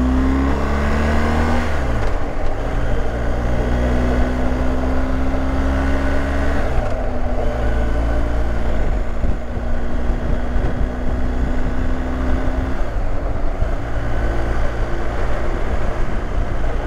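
A motorcycle rides along a road in hot weather, its engine droning steadily and loudly with several rising gear-change sweeps, close to the microphone throughout.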